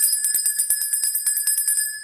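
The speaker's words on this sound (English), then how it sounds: "when we get the money cards, we ring our manifestation bell right here" A small manifestation bell is rung rapidly and continuously, a bright, close, steady jingling of many quick strikes with sustained ringing tones and no speech.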